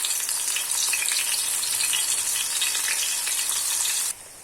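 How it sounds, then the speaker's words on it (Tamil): Brinjal slices frying in hot oil on a dosa pan give a steady, loud, close hiss and crackle that holds evenly, then drops suddenly to a softer sizzle near the end. "பிரிஞ்சால் எல்லாம் நல்லா வெந்துக்கிட்டு இருக்குது"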